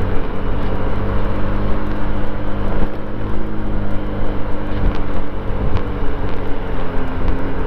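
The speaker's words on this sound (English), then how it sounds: "a 150cc is all that you need to kind of get through DC" A 150cc motorcycle rides through the streets of Washington DC, giving a steady, loud engine drone mixed with wind rush and road noise, with no one speaking.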